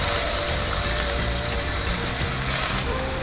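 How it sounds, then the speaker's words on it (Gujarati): Water poured into a pan of spice masala for an onion gravy on a rustic earthen stove, making a loud, steady gushing sizzle for about three seconds before it cuts off abruptly. "અને અંદર થોડુંક પાણી એડ કરી દીધું આપણે।"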